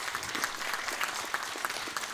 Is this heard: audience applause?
yes